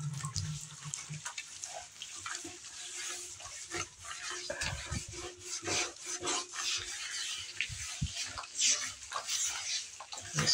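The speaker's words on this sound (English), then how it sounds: "Let me turn some water on." Water running into a bathtub in a home bathroom, a steady broadband rush with rubbing and scrubbing noises over it throughout, fairly close and moderately loud.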